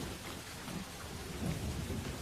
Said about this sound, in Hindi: रात के 1 बजे थे पर बारिश का कहर बिल्कुल भी कम नहीं हुआ था।